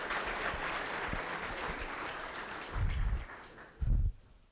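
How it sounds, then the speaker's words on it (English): An audience at a collegiate ethics case competition gives a sustained round of applause for the Indiana University team, fading out near the end while a couple of dull thumps from a microphone cut through. "How about a round of applause for Indiana University?"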